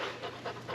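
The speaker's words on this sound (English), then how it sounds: "Man, look how big this dog is." A large dog of about 90 pounds pants rapidly and close by, breathing in quick, steady rhythmic bursts with no talking.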